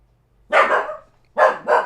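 Dog barking indoors, two close, sharp bark bursts separated by a short pause, loud against an otherwise quiet room.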